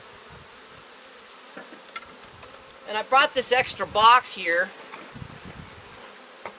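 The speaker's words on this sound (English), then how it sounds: "I'm just gonna lightly smoke the bees off the top bar." Honey bees buzzing around a queen rearing graft frame in an open hive, a soft steady hum close by, with someone talking over it briefly.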